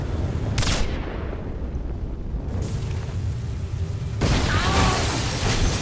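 Gunfire in the video game Singularity, loud booming shots and blasts with a crackling, explosive texture, coming in bursts with a quieter stretch in between.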